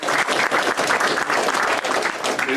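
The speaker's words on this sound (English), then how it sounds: "It's good to get applause at the beginning." Audience applause opening an evening holiday presentation, a dense, steady wash of many hands clapping close by for the full stretch without a break.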